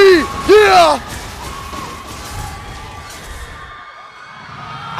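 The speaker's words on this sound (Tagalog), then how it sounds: "At narinig nyo na nga ang sigaw ng Phoenix Army." Phoenix Army fans at an MPL esports match roar and cheer in a big arena crowd, a loud burst of shouting at the start that settles into sustained crowd noise with a caster talking over it.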